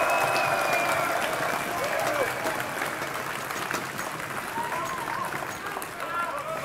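A Finnish crowd at an esports match cheers and applauds in a loud, continuous roar of clapping and shouting that stays full from start to finish.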